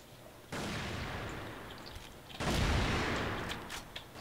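Gunfire in a video game: two long, loud, dense rolling bursts of shots, the second heavier, with a few scattered pops trailing after.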